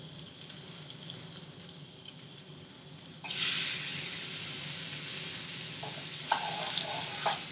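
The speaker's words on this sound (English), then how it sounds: "we're going to take our meat, we're going to add that into the frying pan." Grass-fed ground beef hits a hot frying pan and bursts into a loud, steady sizzle after a quieter stretch of kitchen noise, with a few utensil clinks over the hiss.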